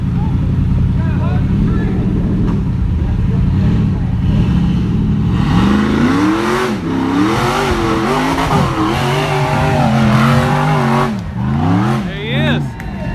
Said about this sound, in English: That's a nasty little LS motor with 100 shot of nitrous in it.